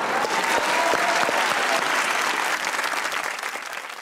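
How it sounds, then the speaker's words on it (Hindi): Studio audience on a Pakistani comedy talk show breaks into steady, dense applause that holds loud and full throughout, easing slightly toward the end, with no talk over it. "ऑडियंस में लड़के बैठे हुए हैं, इनके लिए भी तालियां होनी चाहिए"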